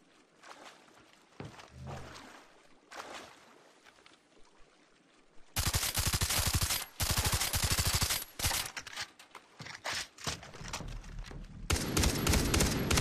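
Gunfire from a gun in the video game Far Cry 3 sounds in loud, rapid bursts of shots, interspersed with quieter ambient game noise between volleys.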